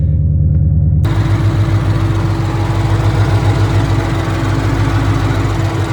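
A car engine rumbles at a steady idle, close and loud, after a quieter moment at the very start, at a Copart auction lot in Gastonia.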